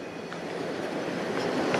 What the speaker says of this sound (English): Unless those are trains like moving from one track to another or starting.